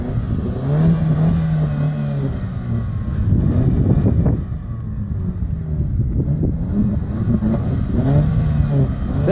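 A Suzuki Sidekick stuck in snow revs hard and keeps droning, its engine rising and falling with wheel spin in loud, close surges as wind buffets the microphone.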